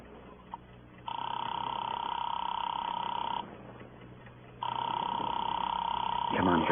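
An old telephone receiver gives off a steady dial tone in two long stretches separated by a short break, clear and close, with faint voices underneath in a radio drama scene.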